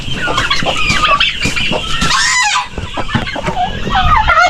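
Chicks and chickens on a farm cluck and peep loudly and close, a dense overlapping chorus of chirps and clucks that carries on throughout.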